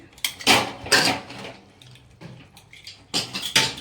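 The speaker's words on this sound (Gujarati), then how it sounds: "હવે આપણે ગેસ બંધ કર્યો અને હવા જો નીકળી ગઈ કુકરની. હવે જોઈ લઈએ." A stovetop pressure cooker with a drumstick (moringa) curry is opened after its steam is let out; its metal lid and pot clatter in several sharp, fairly close clanks over a few seconds, with no talking.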